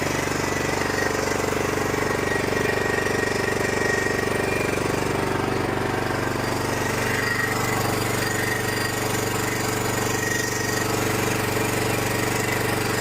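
A cheap used riding lawn mower engine idles steadily and loudly up close, a constant rough rumbling drone with no talk.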